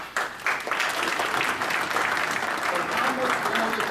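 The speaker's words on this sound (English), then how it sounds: "I would like everyone to applaud." Applause from a legislative audience honouring detectives, a dense, steady wash of clapping that swells in at the start and holds at a moderate level, with some speech woven through it.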